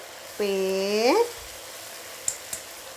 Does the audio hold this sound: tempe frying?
yes